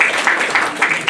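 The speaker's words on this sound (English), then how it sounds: "If we could hold the applause till the end of the round" Dense audience applause at a spelling bee, a steady wash of many hands clapping with faint pulsing swells, fairly loud and close, with no talking over it.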